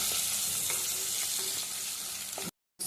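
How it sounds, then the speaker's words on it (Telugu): Mustard seeds, chana dal, onions and green chilies sizzle and fry steadily in a pan of hot oil as a tempering, with occasional stirring clicks, close and continuous before a brief cut to silence. "పోపు అయితే ఎర్రగా వేయించుకోవాలండి"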